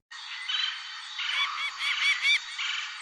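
A hawk call from a children's bird-sounds learning game, a series of shrill, strained cries repeating over about three seconds, loud and close with no talking.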